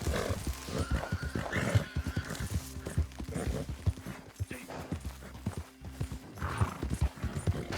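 Horse hooves gallop in Red Dead Redemption 2, a steady, fast clip-clop rhythm that runs throughout at close range, with occasional whinnies over the game's background ambience.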